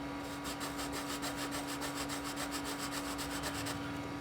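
Steady dry scratching of a Conté à Paris sketching pencil dragged across paper in quick repeated strokes, close and continuous, with a faint constant hum underneath.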